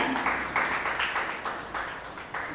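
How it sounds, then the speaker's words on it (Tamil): A seated audience at a literary gathering in Pollachi claps in several brief waves, a moderate, close patter of hands that rises and fades repeatedly. "உங்களுக்கு கைத்தட்ட நீங்களே தட்டிக்கோங்க"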